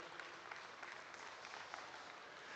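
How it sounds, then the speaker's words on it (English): Steady applause from a crowd at a junior breeding sheep show ring, even broadband clapping that holds at a moderate level throughout with no voices over it. "Let's go ahead and give all these exhibitors a big round of applause."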